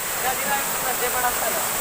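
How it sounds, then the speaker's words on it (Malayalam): Swapnakundu waterfall at Karuvarakundu pours in a steady, dense roar of rushing water, broadband and unbroken over a brief moment, heard fairly close. "വെള്ളച്ചാട്ടമാണ് ഇവിടെ ഉള്ളത്"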